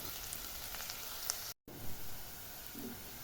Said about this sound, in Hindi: मैं इसमें ये लहसुन डाल दूँगी ताकि ये भी इसके साथ ही फ्राई हो जाए